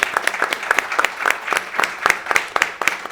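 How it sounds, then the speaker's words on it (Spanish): An audience at a business panel on sustainable strategies claps loudly, a dense burst of applause with distinct nearby hand claps popping through. "les pido un aplauso enorme"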